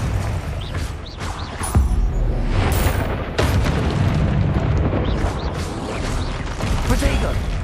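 A Confringo blasting spell goes off in a Hogwarts wizarding video game, landing as heavy booming bursts within a dense, continuous battle din of other spell effects that stays loud throughout.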